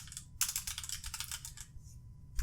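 Rapid clicking keystrokes come from typing on a computer keyboard, forming a dense burst of close, crisp taps. A short pause follows, then a few more taps at the end.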